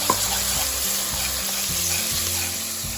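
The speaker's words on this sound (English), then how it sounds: "it's good to add it right into the oil so that you caramelize it a little bit" Tomato paste sizzling in hot oil in a pan for Italian-style lentil soup, a loud, steady close frying hiss with faint stirring scrapes beneath it.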